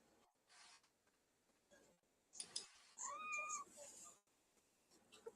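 A cat lets out a single clear, fairly close meow amid quiet room sounds and faint clicks.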